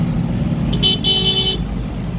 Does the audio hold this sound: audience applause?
no